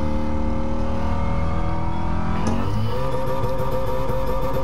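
A Ford Shelby GT350R engine revs hard toward its rev limiter, a loud, close, sustained high-pitched roar that climbs steadily and then shifts pitch mid-pull, with no talk over it.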